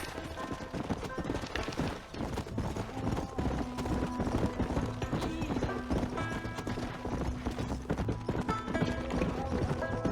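Horse hooves clip-clopping steadily while being ridden in the video game Red Dead Redemption, a continuous rhythmic gait under a busy game soundtrack with voices talking.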